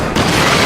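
A flare gun fires in Alan Wake: a sudden loud, close burst that blooms into a sustained bright hiss.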